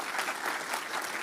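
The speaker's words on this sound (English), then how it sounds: "So a round of applause to every ZK dev here who helped with that." A conference crowd of developers claps in a short, dense burst of applause with no talk, even and moderately loud throughout.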